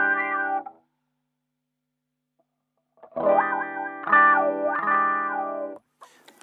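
Electric guitar run through a Boss PW-10 digital wah pedal: two sustained, distorted phrases with sweeping vowel-like filter movement, a short burst then a longer, louder passage after a pause, heard alone without talk.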